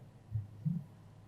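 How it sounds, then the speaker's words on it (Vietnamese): A heartbeat sound effect on a dating show gives a soft, low double thump, two muffled beats spaced about a third of a second apart over a faint hum. "Nhịp tim đã bị lỡ một nhịp"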